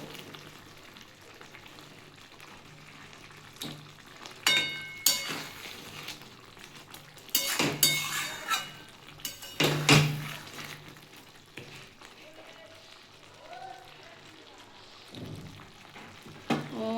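Fish curry of catla with lentils and okra stirred in a pan after garam masala goes in, with scraping and clinking of the spoon against the pan, gentle sizzling underneath, and a few louder knocks in the middle.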